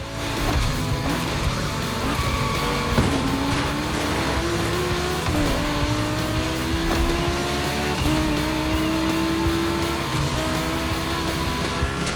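Audi Quattro and Porsche 911 racing in the video game The Crew Motorfest, loud engines revving and shifting with rising and falling pitch sweeps and occasional tire squeal, continuous throughout.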